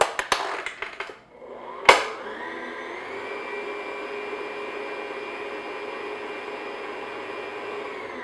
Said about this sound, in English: I'm just going to mix this on low speed just to get all the ingredients mixed together.